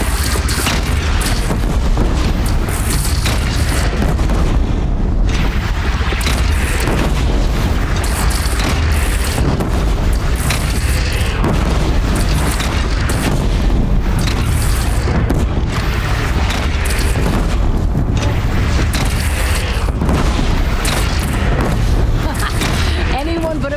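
Booming cannon fire and explosions in the video game Horizon Zero Dawn during a battle with a bandit clan, dense and loud throughout with game voices mixed in.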